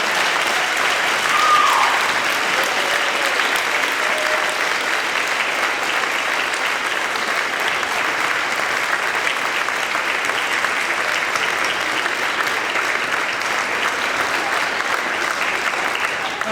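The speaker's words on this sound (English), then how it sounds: "Please join in applause to congratulate our 2017" Sustained applause from a large audience congratulating graduates at a Founders Day ceremony, an even, dense roar of many hands clapping that holds steady for a long stretch without talk over it.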